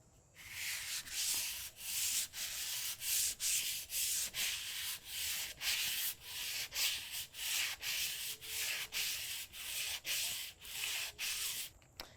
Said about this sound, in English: now I'm going to prepare this one by sanding it first